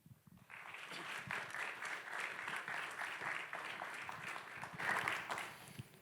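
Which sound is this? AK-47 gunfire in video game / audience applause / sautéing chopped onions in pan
audience applause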